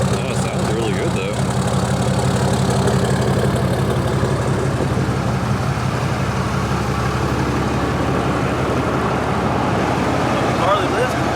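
A Ford F-250 diesel, sitting for over ten years and now running a deleted stock tune, idles steadily and loudly up close with a constant low rumble throughout, a voice occasionally talking over it.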